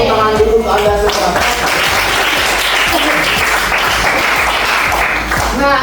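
An audience breaks into loud applause after a voice speaks briefly at the start, the clapping dense and sustained to the end.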